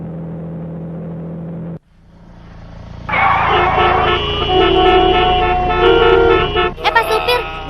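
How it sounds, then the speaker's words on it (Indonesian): Car horns honk loudly at a minibus stopped in traffic, first one steady tone, then after a brief drop a longer blaring overlapping chorus of horns over engine rumble. "Itu diklaksonin pengendara lain."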